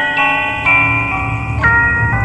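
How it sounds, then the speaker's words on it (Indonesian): Bright, tinkling metallic notes plucked one after another in a slow melody, like a small music box, ringing clearly up close. "Ia mendengar suara kotak musik."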